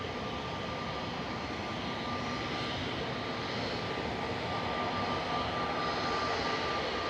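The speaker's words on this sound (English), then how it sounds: "So we've just had Ryanair from Madrid come in with flight 3186." A Ryanair jet coming in from Madrid at Manchester Airport produces an even jet engine roar with a thin whining tone, holding steady and building slightly toward the end, no voices present.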